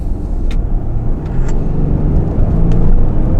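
A 2019 Genesis G80 accelerates hard, its engine and road noise rising into a loud, sustained interior rumble over a few seconds.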